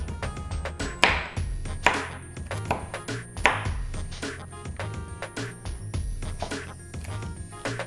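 Walnuts being rough chopped with a knife on a cutting board, a series of irregular close knocks and crunchy chops over several seconds, with a faint low background hum.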